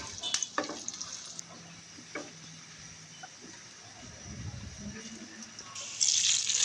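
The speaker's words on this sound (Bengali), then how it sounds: "পেঁয়াজটাকে এবার বাদামি করে ভেজে নেব।" Chopped onions frying in oil in a pan until brown, as a tempering for leftover-rice khichuri; a soft steady sizzle runs throughout with occasional stirring clinks, growing louder near the end.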